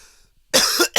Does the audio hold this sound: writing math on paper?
no